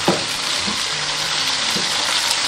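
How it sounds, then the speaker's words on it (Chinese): Beef short ribs pan-frying over medium heat in hot oil, a loud continuous sizzle with a few soft knocks of the pan, no voices. "油热过后，加入牛仔骨，中火慢煎。"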